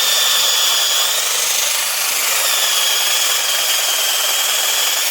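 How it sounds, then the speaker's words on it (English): A power drill bores an angled hole through wood for a lag screw, a loud continuous grinding whir held steady for several seconds without a break. "we're going to drill a hole at an angle like this."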